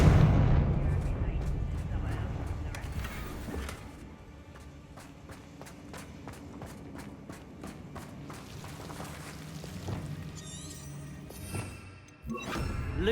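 Confringo fire spells blasting in the Hogwarts Legacy video game: a run of sharp, booming explosions and impacts amid busy combat noise and footsteps, with a voice speaking over parts of it.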